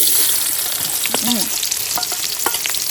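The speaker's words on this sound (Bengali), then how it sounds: "তেজপাতা শুকনো মরিচ তেজপাতা আর গরম মশলা দিয়ে দিচ্ছি তেলে পরে এবার দিয়ে দিচ্ছি পেঁয়াজ" Onions hit hot oil already holding bay leaves, dried red chillies and garam masala, for a dahi katla fish curry, producing a loud close sizzle with a few stirring scrapes.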